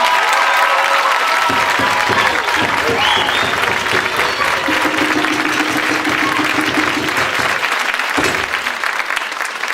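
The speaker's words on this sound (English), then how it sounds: "Can we give them another round of applause?" Sustained loud applause from a large room crowd celebrating the class of 2004 at a graduation, steady and dense throughout with a brief dip near the end and scattered voices mixed in.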